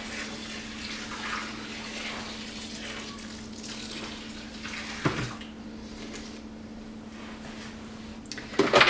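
Water pours steadily into a container of seed-starting soil mix indoors, a continuous running splash with a brief clatter near the end.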